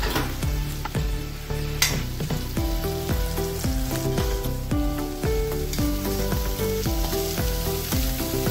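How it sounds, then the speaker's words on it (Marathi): Coarsely ground boiled chana dal meets a hot pan and sizzles loudly and steadily, broken by repeated scraping and stirring strokes against the metal pan. "आता आपण ही मिक्सर मधून हरभऱ्याची डाळ घातलेली त्यात घालू।"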